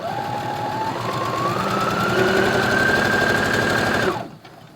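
A Brother CS10 sewing machine stitching light, fine fabric with a short stitch, a steady fast mechanical whir and rattle that rises slightly in pitch, then stops abruptly near the end.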